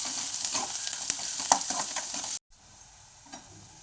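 Onion sautés in hot oil after mustard and cumin seeds, a bright continuous sizzle broken by light spoon scrapes, then the sound drops to a quieter sizzle.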